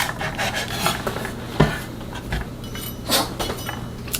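A knife trims the ends off fresh domestic garlic scapes on a cutting board, giving a few crisp scraping cuts and light clinks in close, quiet succession with no talking.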